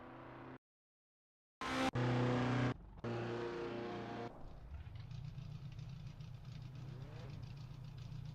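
Race car engines idle and rev at the Bridgehampton circuit in Assetto Corsa, a steady engine drone following brief bursts of other sound, with faint background speech.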